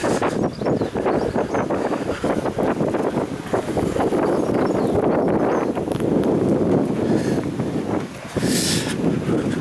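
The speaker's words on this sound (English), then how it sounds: "Wasn't talking on that bit because it's getting just a bit windy" Steady gusty wind buffets the microphone at Pontefract Castle with a broad rushing roar, loud and continuous throughout.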